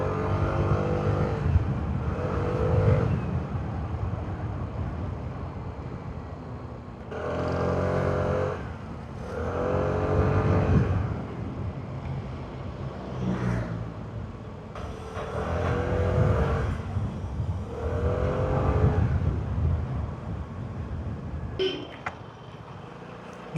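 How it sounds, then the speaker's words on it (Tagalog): Motorcycle exhaust while riding in traffic, the engine note swelling and easing in repeated surges of revving and cruising, close and fairly loud with rushing wind, no talking. "Rinig kaya yung exhaust?"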